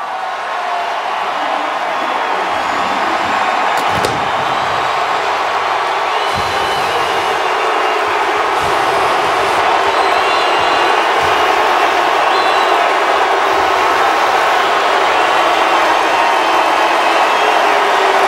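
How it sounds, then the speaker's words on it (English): A sellout basketball arena crowd at the 2011 ACC Championship, Clemson against Virginia Tech, roars steadily and loudly throughout, a dense, sustained cheer with occasional sharper bursts. "Sellout crowd on hand."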